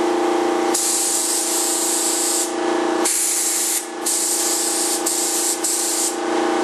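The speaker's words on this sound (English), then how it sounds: "It'll spray just fine. That air build up." Close, loud hiss of a spray paint can in several bursts while building an F-105 Thunderchief model kit, broken by short pauses, over a steady mechanical hum.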